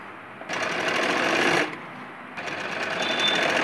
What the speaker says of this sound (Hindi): इधर जमकर सिलाई लगानी है।